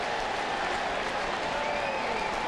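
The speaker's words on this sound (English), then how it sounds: "the crowd starts to get into it" Crowd noise swells at a baseball stadium during a 1999 Red Sox–Mets game, a continuous dense roar of cheering and clapping at moderate distance with no gaps, under faint broadcast talk.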